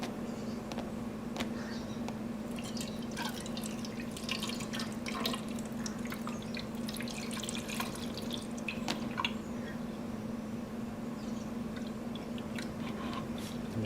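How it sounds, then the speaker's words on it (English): Antifreeze poured into a Honda Sabre motorcycle's cooling system, faint trickling and irregular drips and gurgles over a low steady hum. "Let's get a little bit of antifreeze in there now."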